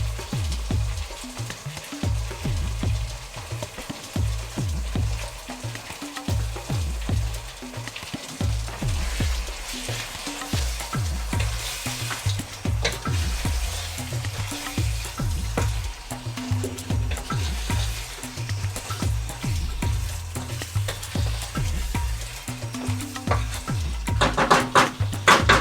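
Green chilies and lemon juice simmer in a pan, giving a continuous soft sizzle with rhythmic low thumps, like stirring, running steadily throughout with no talking.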